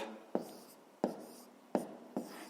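A pen writes an answer down on paper in four short, close scratching strokes spaced about evenly, quiet and alone.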